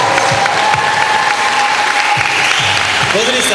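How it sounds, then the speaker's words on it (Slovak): An audience applauding continuously, dense loud clapping from a crowd heard close throughout, with a voice briefly audible under it. "Pozri sa, ako veľmi ti tlieskajú."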